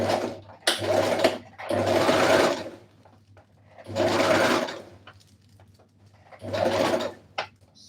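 Sewing machine stitching a shirt, running in four separate bursts of about a second each with short pauses between, loud and close.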